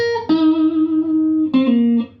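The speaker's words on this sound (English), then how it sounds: "he plays a minor 3rd with a bit of vibrato" An electric guitar plays a blues lick with a minor third held with vibrato: three clear, sustained picked notes that ring and fade, the longest note wavering gently.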